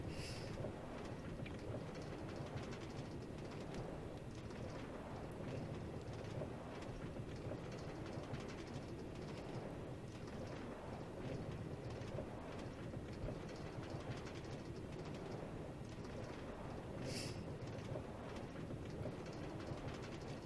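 A minecart rolling along rails in Minecraft, a steady rumbling clatter with rhythmic rail clicks running continuously for about twenty seconds, fairly faint, with no one talking.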